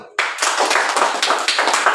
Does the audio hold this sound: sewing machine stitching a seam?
no